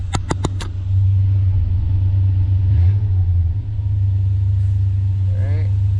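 Car engine, just refitted with an intake manifold, running after being started, with a steady low rumble that swells briefly then settles near and loud, and a voice speaking over it.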